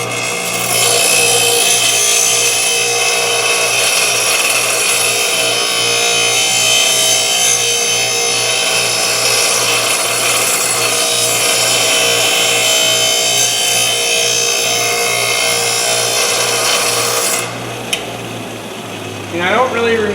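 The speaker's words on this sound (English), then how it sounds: "So I'll just go on my bench grinder here." A bench grinder grinds steadily against the side of a router bit, giving a loud, continuous abrasive whine with a harsh, rough edge for about seventeen seconds before it cuts off and fades into quieter handling noises.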